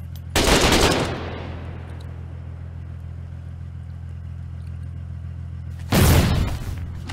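Machine gun fire in the war game Foxhole, two loud, dense bursts near the start and end, with a low engine-like rumble droning steadily between them.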